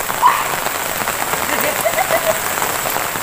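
Steady rain falls with a dense, hissing patter on surfaces, loud and continuous, with a few faint chirps over it.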